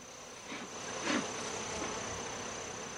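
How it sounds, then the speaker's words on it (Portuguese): Honeybees buzz in a dense, steady hum during a hive transfer as they are brushed off the combs with a soft horsehair brush, close and continuous, with a brief louder swell partway through and no voices. "As abelhas são retiradas dos favos com uma escova de crina de cavalo bem macia"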